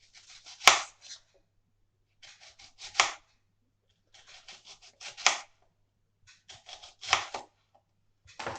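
A peeled onion with its ends trimmed is sliced into rings with a knife. Crisp, close cutting strokes come in short bursts with sharp board taps and quiet pauses between the groups.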